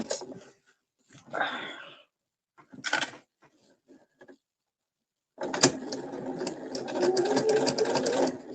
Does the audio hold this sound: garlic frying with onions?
no